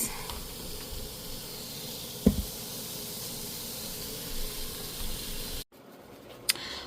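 A pressure cooker holding oxtail stew lets out a steady, fairly faint hiss of steam that continues throughout, with one brief knock and a short break near the end, and no talk.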